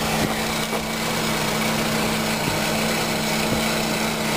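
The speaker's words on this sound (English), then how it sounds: "it's got the 2-liter 4-cylinder engine with the 16-valve Z-Tech. Runs just like new." A 2001 Ford Focus SE station wagon's 2.0-liter four-cylinder 16-valve Zetec engine idles steadily, heard up close as an even, continuous mechanical drone with faint ticking and no gaps.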